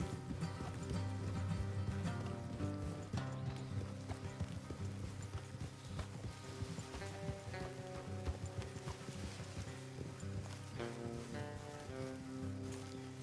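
Horses' hooves clip-clop in a Red Dead video game scene, a steady rhythmic trot on a road under layered game music and ambience, fairly quiet overall with the odd snort.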